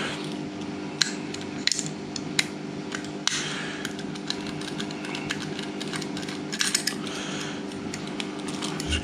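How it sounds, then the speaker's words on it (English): A computer hard drive is dismantled for scrap and gold recovery, giving a run of sharp metallic clicks, taps and scraping clatters from tools and small parts, close by and irregular, with no talk. "I'm taking every part of this hard drive apart"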